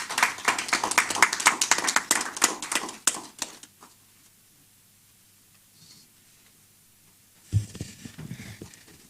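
Audience applause at a public hearing in Nigeria: dense clapping that thins out and fades to near silence, then a fresh burst of clapping starts near the end.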